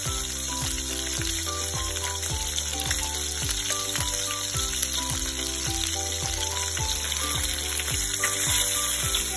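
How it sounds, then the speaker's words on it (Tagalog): A whole chicken cooking in a pan for hamonado, its sides browning with a steady, soft sizzle that sits beneath prominent rhythmic background music throughout. "niluluto rin natin yung dalawang kabilang side yun"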